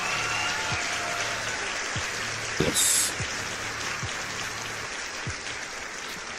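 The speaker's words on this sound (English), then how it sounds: "That deserves a round of applause." Light, scattered applause from a small audience, a soft continuous patter with a few louder claps and a brief burst partway through.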